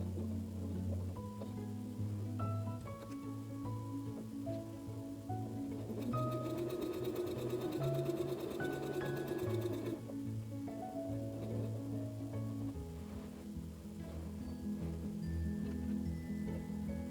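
Domestic sewing machine with a walking foot quilting a fabric panel lap quilt, a steady mechanical whir running throughout and briefly louder and busier in the middle, with no talking.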